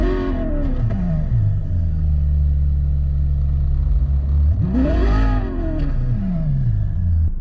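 Simulated Ferrari 458 engine from a phone rev app, a steady idle drone broken by two sharp revs rising and falling, loud and close with no voices.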